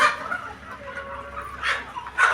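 Chickens cluck and call continuously in a dense flock at a poultry farm, with several louder squawks standing out near the end over a steady barnyard murmur.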